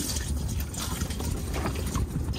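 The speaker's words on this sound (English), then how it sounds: "We're just finding random bins and stuff and filling them up with our bilge water." Bilge water from a sailboat being poured into bins, a steady close splashing trickle with rushing noise underneath, continuous for a couple of seconds.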